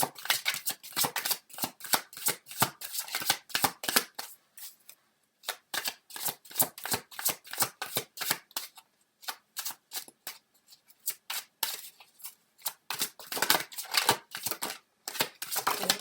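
Tarot cards shuffled in bursts of quick, crisp riffling and flicking, close and fairly loud, with brief pauses between rounds and no talking.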